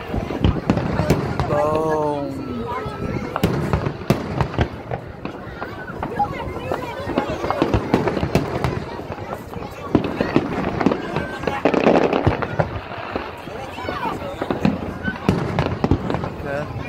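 Fourth of July fireworks exploding over a pier, with repeated booms and crackles throughout, loud and near, while several people talk and exclaim over the blasts.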